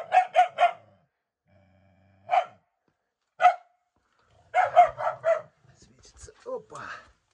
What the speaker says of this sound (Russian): Собака. Все, тихо.